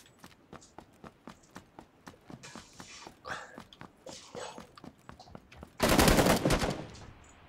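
Rapid bursts of gunfire from a PUBG match crackle in quick repeated pops, building to a loud, dense barrage near the end; no talking accompanies the shots.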